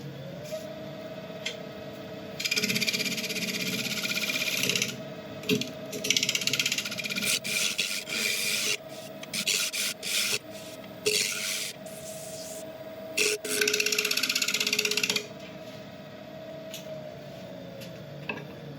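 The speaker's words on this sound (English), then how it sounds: "I'm going to do that with a scraper, I think." A steady scraping rasp of a scraper against a beech bowl on a lathe comes in long strokes, with bursts of harsher grinding and a continuous mechanical hum beneath.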